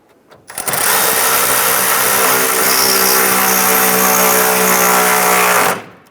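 A power tool drives grille mounting bracket screws on a 2002-2008 Dodge RAM, one loud steady whir lasting about five seconds with a sharp start and stop, close and alone.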